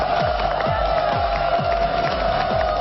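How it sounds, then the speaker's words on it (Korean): A TV studio audience cheers and applauds in a loud, steady roar with rhythmic thumping underneath, welcoming a guest. "크고 따뜻한 박수로 환영드리겠습니다"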